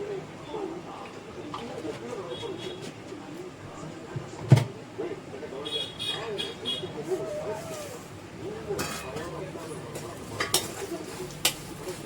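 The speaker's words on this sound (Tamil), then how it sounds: "இப்போ இதை வந்து வறுக்கலாம். நெய் ஊற்றிக்கிடலாம்." Vermicelli being roasted in ghee in a pan and stirred, making soft scraping and rustling with occasional sharp metallic clinks of a utensil against the pan, and someone talking intermittently.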